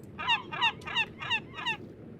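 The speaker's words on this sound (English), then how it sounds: "This is a seabird." Five harsh, honking seabird mob calls from the Minecraft Thalassophobia mod, evenly spaced and moderately loud over a low rumbling background, with no talk.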